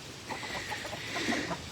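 Chickens cluck softly in short, overlapping bursts nearby on a farm sanctuary, with a low rumble of background noise underneath.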